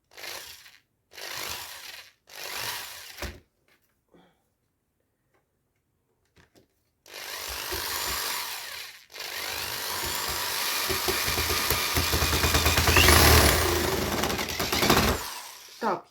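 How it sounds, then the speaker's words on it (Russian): A power screwdriver drives screws into the frame of a shoe pouf made from rolled newspaper tubes, with several short whirring bursts followed by a longer sustained buzzing run, loud and close, with brief pauses between. "Я шурупчиками сейчас привинчу."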